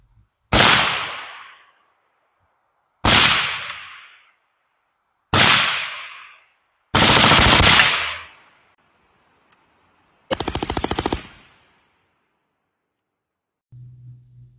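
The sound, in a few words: rifle gunfire through Huxwrx Ventum 7.62 silencer, flash test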